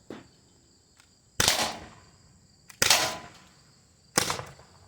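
Three sharp, loud shots from a less-lethal air pistol fired at a range, spaced about one and a half seconds apart, each a crisp crack with a short decay, with quiet background between them.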